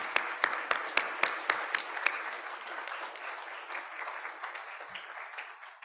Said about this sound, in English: So I really want to get everyone to give Joss and Neil a massive round of applause.